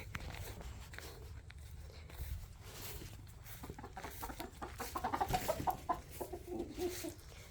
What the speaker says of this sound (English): I'm gonna go say hi to the chickens real quick since we're right here.